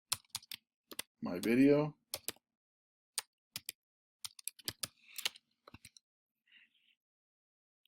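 Quick, sparse keystrokes on a computer keyboard tap out in irregular clusters, close and crisp, after a brief spoken phrase, then trail off into near silence.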